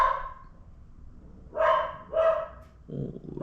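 A dog indoors barks three times in separated loud bursts, with a short pause between the first and the last two, followed by a rustling noise.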